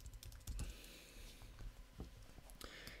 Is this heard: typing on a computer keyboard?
yes